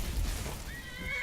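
A horse in Skyrim gives a short whinny, its quavering high call rising at the end over a steady game background.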